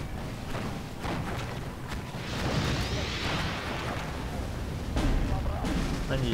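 Flak cannon fire in the war game Steel Division 2, heavy repeated booms and thuds amid battlefield rumble, loud and dense, with a voice talking over the combat.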